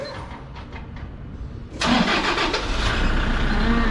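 A 2013 Toyota Vigo 2.5 pickup truck engine cranks and fires up partway through, then settles into a steady, loud idle close by.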